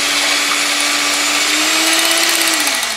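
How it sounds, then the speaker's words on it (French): Small electric hand whisk mixing yogurt and hazelnut cake batter, a loud steady motor whine held close throughout, its pitch sagging slightly near the end. "Mais avec un petit fouet électrique comme ça, c'est vraiment parfait."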